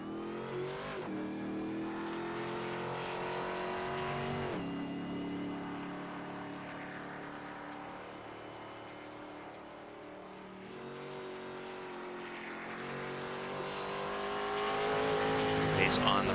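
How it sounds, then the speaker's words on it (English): Stock race cars circling the racetrack during qualifying at the 2005 Ford 400, a sustained engine roar that rises and falls as cars pass, fairly distant, with a commentator talking over it. "Several cars on the racetrack."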